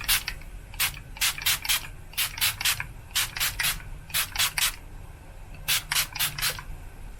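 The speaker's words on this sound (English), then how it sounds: "I'm going to be using the Ciate London Watermelon Burst setting spray." Ciate London Watermelon Burst setting spray misted in short, sharp hisses, fired in quick clusters of three or four pumps with brief pauses between the groups, close and fairly loud over a faint low hum.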